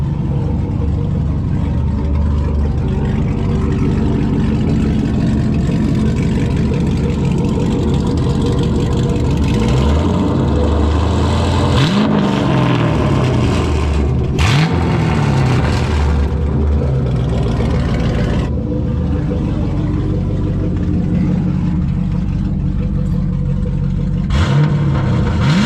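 A Chevrolet Camaro SS with aftermarket downpipes revs repeatedly with a loud, rumbling exhaust, several sharp rising bursts over a steady idle.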